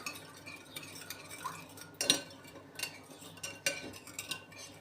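A spoon stirring a yeast mixture in a bowl for cookie dough, giving soft scraping strokes and light clinks against the sides. The sounds come in irregular bursts, fairly quiet and close, with no talking.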